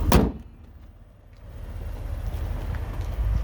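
Closing up a 2019 Ford Expedition Max Platinum: a single sharp, loud slam of a door or hood at the start, followed by a quiet low rumble of background air.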